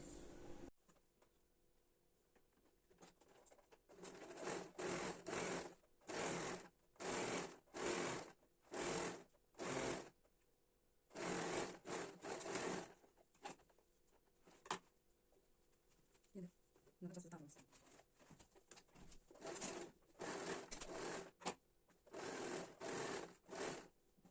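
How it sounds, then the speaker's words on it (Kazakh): Sewing machine stitching turban fabric, adding a front band with a 1 cm seam: repeated short bursts of close, rapid mechanical chatter separated by quiet pauses over about twenty-four seconds. "Енді ең әуелі мына маңдайшасын қосып 1 см қосып тігетін болам."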